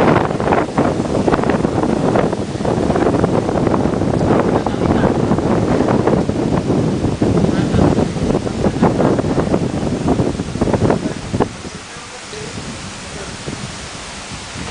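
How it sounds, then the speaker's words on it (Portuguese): Strong wind during a tornado warning at Horseshoe Bay buffets the microphone in loud, continuous gusts, easing off slightly near the end. "O vento está muito forte."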